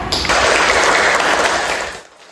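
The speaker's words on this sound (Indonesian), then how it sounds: "Tepuk tangan untuk kita semua" Students in a classroom break into a short burst of applause, many hands clapping steadily together for about two seconds before it fades out.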